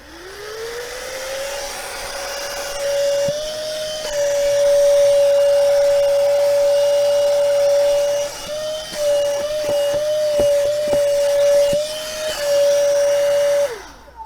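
A cordless rechargeable Honk mini handheld vacuum cleaner with LED light whirs up to a steady loud motor whine, its pitch dipping and wavering briefly as the suction is tested, then cutting off at the end; no talking.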